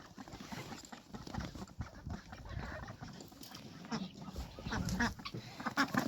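Ducks quack faintly in a noisy yard as they are herded into their shed, with scattered honks and shuffling close by.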